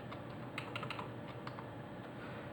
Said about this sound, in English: I'm going to go ahead and type in the word hardware